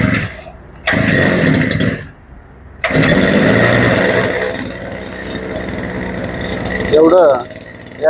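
A Kisan Craft brush cutter engine is pulled and starts, sputtering in bursts before settling into a loud, steady buzzing run close by, with a brief sharp squeal near the end.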